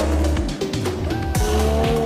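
Lamborghini Revuelto V12 hybrid accelerating hard in Corsa mode, a loud, close engine roar climbing through the revs with quick upshifts that break and restart the rising tone.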